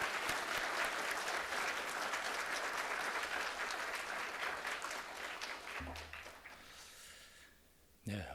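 A church congregation claps in sustained applause to welcome a pastor at an open-house worship service, a dense steady roar of many hands that gradually thins and fades out near the end.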